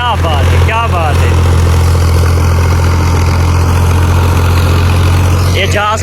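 A tractor engine runs steadily close by on a sandy work site, its low idling drone constant throughout, with brief speech-like tones near the start and end.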